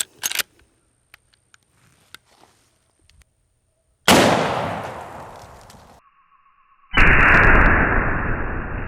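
Two loud, sharp gunshots from a Henry X Model lever-action 45-70 rifle firing 320 grain hard cast hollow point bullets, spaced about three seconds apart, each with a booming outdoor echo that trails off, preceded by faint clicks and handling.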